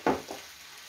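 Rice stir-fried with a spoonful of gochujang, meat-restaurant style, gives two quick scraping stir strokes close by, then a low, fading sizzle.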